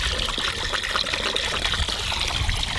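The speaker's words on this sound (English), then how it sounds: "We can just wash it with water just like we wash clothes." Water pours and trickles continuously while washing a batch of homemade biodiesel made from waste cooking oil, a steady close splashing stream with small bubbling bursts and no talking.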